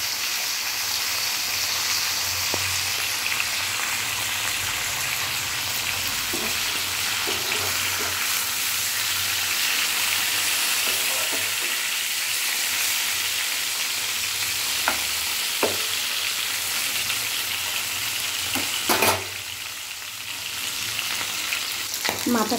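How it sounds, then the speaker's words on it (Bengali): Hilsa fish heads fry in hot oil with a dense, continuous crackling sizzle, loud and close, and a few sharp clinks from a turner or spatula near the end. "এবার তেলের মধ্যে মাছের মাথাগুলো ছেড়ে দেব।"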